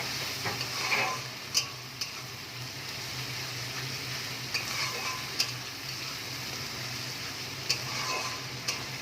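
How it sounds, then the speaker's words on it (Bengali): Ginger paste and cumin powder fry in a pan for koi fish curry, giving a steady low sizzle with a few sharp ticks and scrapes from stirring against the pan. "আদা বাটার সাথে জিরের গুঁড়ো আমি অ্যাড করে দিলাম, ভালো করে কষিয়ে নেব।"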